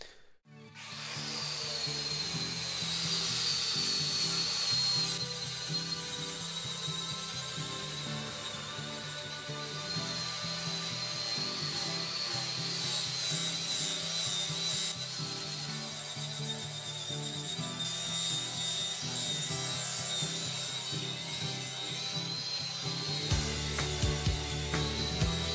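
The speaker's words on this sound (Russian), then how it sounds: "Их будем убирать с помощью болгарки и шлифовочного круга." An angle grinder with a 40-grit grinding disc smoothing weld beads on a metal wheel rim for low-pressure tires, a loud steady whine with rough scraping texture running continuously for about twenty-five seconds, then briefly changing pitch at the end.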